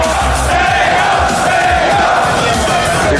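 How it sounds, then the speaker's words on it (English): A large esports arena crowd roars and cheers at a championship final as Cloud9 wins, a dense, loud, continuous wall of shouting and whooping with no letup. "They're cheering Mango."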